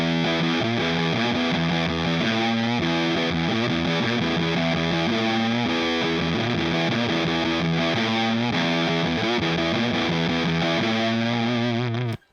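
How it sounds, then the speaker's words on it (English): Electric guitar through a drier fuzz effect with the delay switched off, playing a continuous distorted riff with thick, saturated chords that sustain steadily for about twelve seconds before cutting off abruptly. "So a drier fuzz tone. It's still great though."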